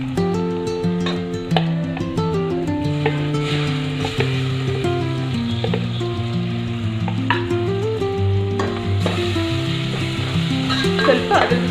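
A paste of coriander leaves, mint, ginger and garlic goes into hot oil for tempering for a keema ball curry, sizzling steadily and loudly up close, with tonal background music over the frying.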